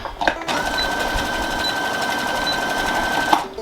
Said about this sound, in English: I'm going to lock stitch it into the back seam.